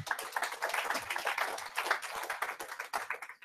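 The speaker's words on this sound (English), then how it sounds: "let's give James a round of applause" Sustained audience applause for a speaker at a web performance meetup, many hands clapping densely and steadily at moderate loudness for several seconds with no voices over it.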